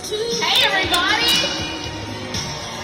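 Crowd cheering and shouting at the Dancing for Big Buddy charity event on a capital-city evening, a lively wash of voices with higher yells rising over it, loud and close throughout.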